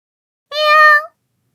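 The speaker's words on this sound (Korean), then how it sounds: "하이디의 주머니 속에서 새끼 고양이가 조그맣게 울음소리를 냈습니다." A kitten's single short, high meow, close and clear, rising briefly and then cut off in silence.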